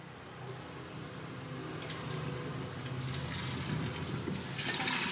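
Boiled glass noodles are poured into a strainer, their water rushing and splashing steadily and swelling louder toward the end.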